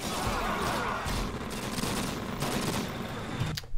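Machine gun fire from enemy MG nests in the World War II shooter Call of Duty: United Offensive, bursts of rapid gunfire and battle noise running continuously, ending with a sharper loud blast.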